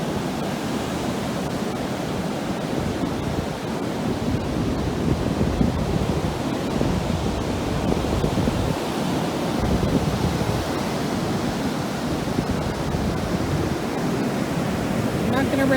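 Ocean waves wash over a rocky beach strewn with large stones as the tide comes in, a loud, steady roar of surf that carries on without a break.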